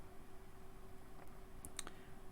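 A few quiet, crisp computer mouse clicks come in a quick cluster near the end, set over a faint, steady room hum.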